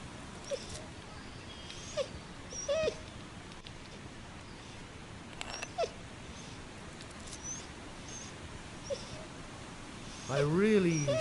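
A dog whimpers and whines in a video game, with short soft cries scattered through a quiet ambient background and a louder, wavering yelp near the end.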